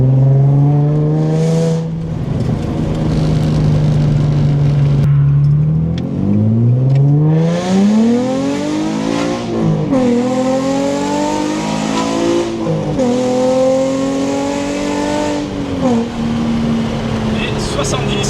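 A Nissan 350Z with a full exhaust system revs repeatedly, heard loud from inside with the windows closed, its engine climbing and dropping through several sweeping blips.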